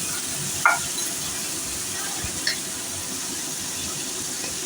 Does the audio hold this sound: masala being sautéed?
yes